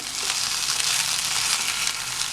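Okra pieces frying in a pan, sliminess cooking off, with a continuous close crackling sizzle at an even level and no talk.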